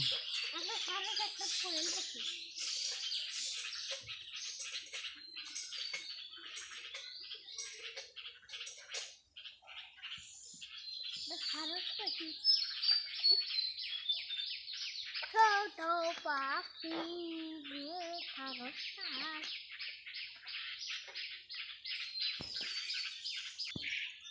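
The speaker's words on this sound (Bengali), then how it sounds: "দেখুন আকাশে দুইটা পাখি কেমন করছে" Two birds call overhead in an open morning sky before rain, a continuous run of high chirps and trills, some rising and falling, with occasional nearby speech.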